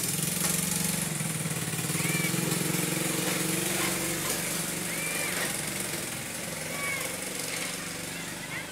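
A mixer beats an aerated cellular concrete mix of cement and water with no additive, giving a steady loud mechanical churning drone with a gritty rattle throughout.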